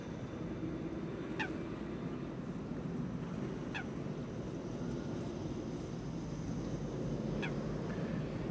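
Birds near a runway at Amsterdam Schiphol Airport give three brief, faint honking calls a few seconds apart over a constant broad roar of aircraft engines.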